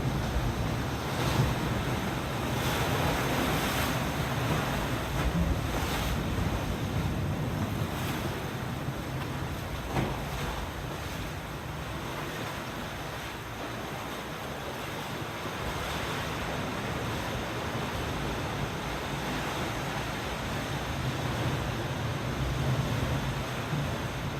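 Surf washes steadily onto the beach at Playa del Diablito near Taurito, Gran Canaria, a continuous moderate rush of waves with wind buffeting the microphone throughout.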